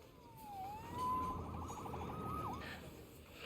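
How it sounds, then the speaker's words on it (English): Police siren wailing in the video game Marvel's Spider-Man 2, rising and falling in sweeping tones over a low rumble of traffic, at moderate distance. "Saved by the siren."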